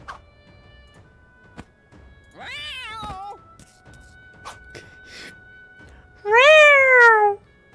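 A cat thrown in a medieval crossbow video game lets out two loud, drawn-out meows with wavering pitch, the second longer and strongest, between scattered thumps and game noises.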